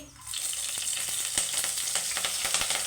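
Chopped onions and green chillies sizzle and crackle in hot tempering oil for semiya upma, a dense continuous fry with scattered sharp pops and occasional stirring, close and steady with no talking.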